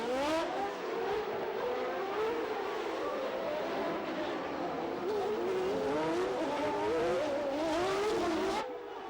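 Onboard a 1989 Formula 1 car at Monaco's Rascasse, the engine screams loud and close with rising and falling gear-change sweeps as it chases another car, continuous throughout.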